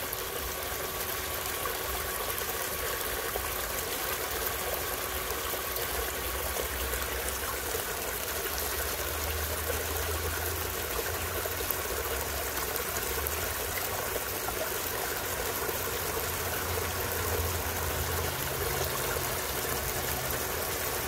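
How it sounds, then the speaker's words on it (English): Water runs continuously through an LED recirculating sluice box, a steady close splashing rush that stays even throughout with no talk. "That's my LED recirculating sluice box."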